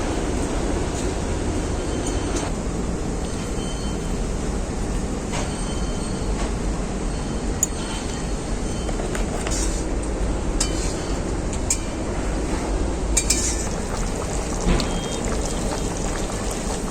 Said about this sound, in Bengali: ঝোলটা খুব ভালোভাবে ফুটে গেছে এখন আমি এর মধ্যে ভেজে রাখা বেগুনগুলো দিয়ে দেব